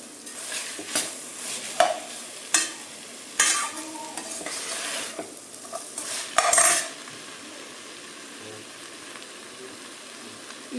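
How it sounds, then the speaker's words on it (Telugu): Tomatoes, carrot and green chillies frying in a pan for paneer biryani, a soft sizzle under repeated stirring clinks and scrapes of a spoon against the pan, fading to a quiet hiss. "మనం కట్ చేసుకొని పెట్టుకుని క్యారెట్ ఇంకా పచ్చిమిర్చి కూడా వేసుకొని అన్నీ కలిపి ఫ్రై చేసుకోవాలి"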